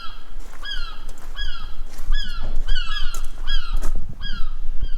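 Seagull calls ring out repeatedly in the seaside village of Crail in Fife, Scotland, a run of loud, close, descending squawking cries in rhythmic bursts over outdoor wind and ambient noise.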